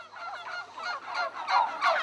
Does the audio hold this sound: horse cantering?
no